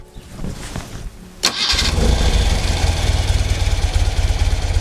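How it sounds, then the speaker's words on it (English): A BMW R75/6 air-cooled boxer motorcycle cranks briefly and fires, then settles into a steady, rhythmic idle with a low, even pulsing beat, loud and close. "let's just start the engine again,"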